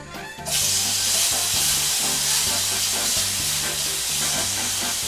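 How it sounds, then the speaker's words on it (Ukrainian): Loud, steady sizzling of pear slices frying in hot olive oil over high heat, a dense crackling hiss that fills the clip without pause. "Готуємо на сильному вогні дуже-дуже швидко. Першою на сковорідку йде наша грушка"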